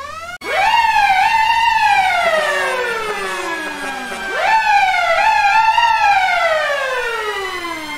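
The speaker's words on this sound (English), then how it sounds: "I like all the sirens on this one too." An old Mack fire truck's siren wails loud and alone in a game setting, sweeping up then gliding slowly down twice, with layered tones in each cycle.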